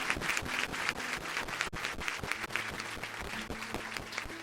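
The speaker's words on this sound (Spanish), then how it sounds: "Dale un aplauso más fuerte al Señor." Church congregation applauding during an evening worship service, a steady crowd of hands clapping with rhythmic accents and occasional voices underneath, continuous and fairly close throughout.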